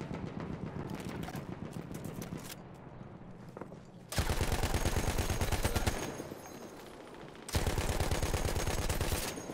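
A Madsen machine gun fires in Battlefield 1 with a fast rate of fire, in two long, loud bursts of rapid shots separated by a quieter stretch of distant battle noise.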